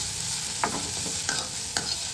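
Onions frying in a pan with chana dal for Tamil-style paniyaram, a steady bright sizzle broken by a few sharp scraping stirs, close up and with no talk.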